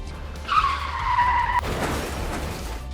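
A speeding car's tires squeal in a loud skid for about a second before slamming into a motorbike rider, the screech cut off by a sharp impact and followed by rough road noise.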